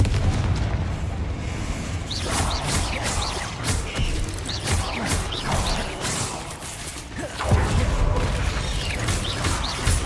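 Confringo explosion spells from the Hogwarts Legacy video game go off repeatedly, each a heavy low boom with crackling bursts and rising magical whistles, packed into a loud, continuous barrage of combat effects.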